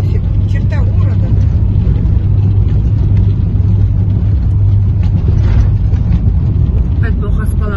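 A car cruises at about 70 km/h on a road leaving town, its engine and tyre rumble steady and loud from inside the cabin while someone talks over it.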